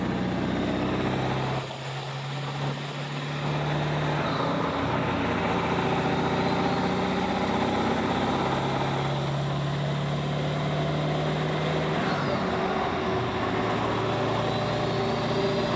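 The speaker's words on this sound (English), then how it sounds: "Hear that turbo." A 7.3 Powerstroke diesel truck towing a heavy trailer runs at a steady, loud drone with a rising whistle-like tone layered on top, holding continuously throughout with a brief dip early on.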